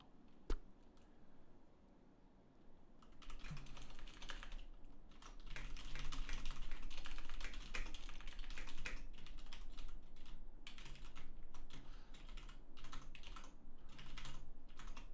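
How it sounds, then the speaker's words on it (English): Steady typing on a computer keyboard, dense clicking keystrokes close to the mic for most of the stretch after a brief quieter start, with no talking. "Just gonna save myself some typing later on."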